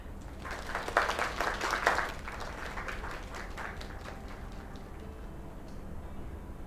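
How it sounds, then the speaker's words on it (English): Applause in the video game Lake, a brief burst of clapping that peaks early and then fades into a steady low background murmur. "Another round of applause."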